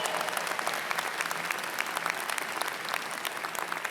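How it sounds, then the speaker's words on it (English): Commencement audience applauding for families and friends in the stands, a dense, steady wash of many hands clapping at moderate distance, sustained without a break and with no voices on top. "Can we give a round of applause to the people in the seats that made this possible?"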